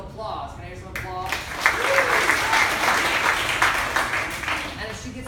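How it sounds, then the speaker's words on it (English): Improv show audience bursting into applause, a sustained wash of many clapping hands rising after a short spoken moment and continuing steadily at fairly close range. "Can I hear some applause?"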